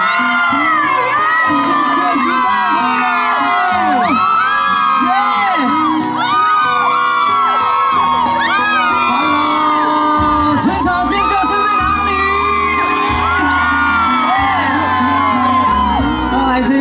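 An outdoor crowd at a community event in Shigang, Taichung cheers, shouts and whoops in welcome for a singer. Loud, continuous cheering is mixed with music.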